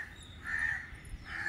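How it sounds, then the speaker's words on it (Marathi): Crows cawing outdoors on a rooftop terrace, two hoarse calls at a moderate distance, faint and without talking. "पक्ष्यांचा चिवचिवाट आणि एक असं ऊन पण नव्हतं"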